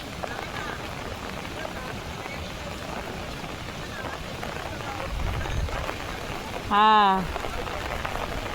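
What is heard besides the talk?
rain falling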